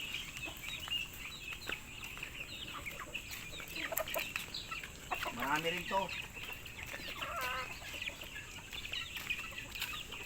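Hens cluck in short, irregular bursts close by, with other birds calling in the background and a person speaking briefly.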